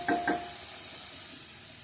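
Masala fries in a pan for crab curry, a soft steady sizzle after two brief scraping stirs at the start.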